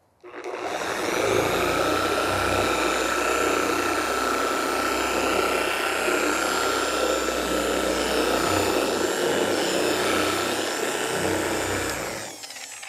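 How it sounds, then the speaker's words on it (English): A dual action polisher runs on black car paint, a steady loud motor whine with a low buzzing hum, starting up and spinning down at the ends, with no talking. "Now this is on a dual action polisher."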